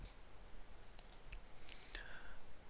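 A few faint, sharp computer mouse clicks scattered across a quiet moment during software work, small isolated ticks with near-silence between them.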